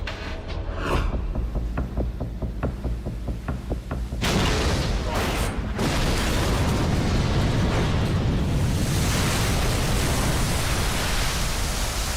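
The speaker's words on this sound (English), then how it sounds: "when the torpedo explodes directly beneath the hull, it creates a massive air pocket into which the ship sinks" Underwater torpedo detonation beneath the hull of the destroyer HMCS Huron during a 2007 sinking exercise, a sudden loud roar bursting in after a rhythmic low pulsing and surging into a sustained, broad rumbling wash.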